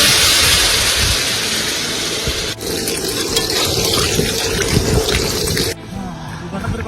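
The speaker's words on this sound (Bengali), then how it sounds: "হ্যাঁ মামা জল দিয়ে দিলাম" Water pours steadily into a cooking pot of sautéed curry at an outdoor riverside camp in the Sundarbans. The flow runs loud and continuous, changes tone partway through, and drops off sharply near the end.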